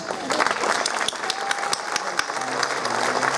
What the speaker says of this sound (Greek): θέλω το δυνατό σας χειροκρότημα για τους μουσικούς μας